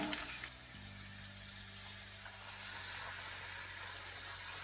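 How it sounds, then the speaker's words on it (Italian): Chiacchiere carnival pastries frying in hot oil, a few at a time, giving a soft steady sizzle and hiss with a low hum underneath, faint and continuous. "Inizio a friggere."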